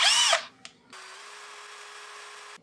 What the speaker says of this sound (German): Nehme ich mal den Schrauber und werde da einfach einen Schleifklotz dran halten.